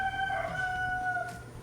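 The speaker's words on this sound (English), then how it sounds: "there's a rooster crowing" At six in the morning a rooster crows one long, drawn-out call at a moderate distance, clear over a low steady background hum.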